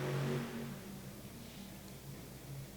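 The Megalodon monster truck revs its big engine hard during a wheelie in a Las Vegas arena, with a loud opening surge that settles into a rumbling, fluctuating drone amid crowd noise.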